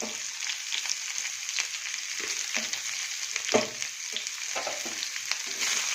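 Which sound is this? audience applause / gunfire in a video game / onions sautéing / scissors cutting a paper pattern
onions sautéing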